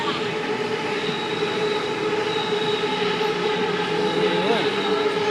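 An elevated Bangkok skytrain passes overhead near the MBK Pathumwan intersection, with a loud, continuous rumble and squealing wheels close by, and a voice talking over it.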